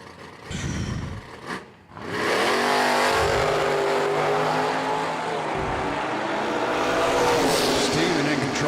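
Drag race cars launching side by side, one a Camaro, at a drag strip: a brief burst of revving, then a loud sustained roar of engines pulling hard with gear shifts, a voice heard briefly at the start.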